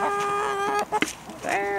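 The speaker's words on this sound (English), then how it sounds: "Give the chickens a treat." Chickens cluck and squawk close by, several overlapping calls in quick succession with a brief break in the middle.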